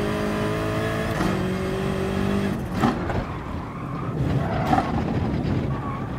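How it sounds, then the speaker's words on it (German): Race car engine in the video game GT Sport, droning steadily at high revs, then a late downshift into second gear around the middle with blips and rough changes in pitch, close and loud throughout. "Spät in den zweiten runterschalten."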